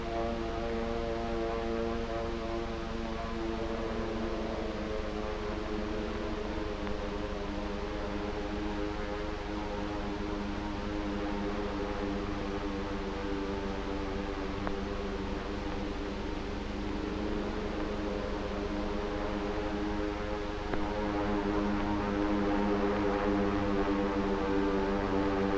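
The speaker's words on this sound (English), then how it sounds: "the drone of planes was faintly heard" A steady, droning hum of approaching aircraft engines, like propeller planes over the Pacific near Pearl Harbor in 1941, holds continuously without pause, mixed with broad noise from an old film soundtrack.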